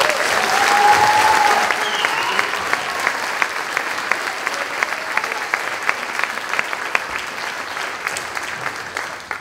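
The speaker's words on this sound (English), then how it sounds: "How about another round of applause for you?" An audience applauds at a school band and jazz concert, with steady, dense clapping filling the room for about nine seconds, plus a brief murmur of voices near the start.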